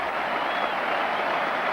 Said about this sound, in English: And there's the cheer for the 100 partnership